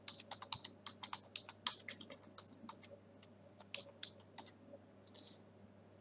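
Fast, uneven bursts of keystrokes on a computer keyboard as an account number is entered into a pension website form, crisp and close in a quiet room, with short pauses between runs of clicks.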